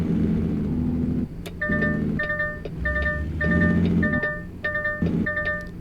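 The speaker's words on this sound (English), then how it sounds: "if you ever wonder what that beeping is" Warning beacon beeps on a truck hauling an oversized load in American Truck Simulator, a steady repeating pattern of electronic tones over a continuous low engine drone, loud and close.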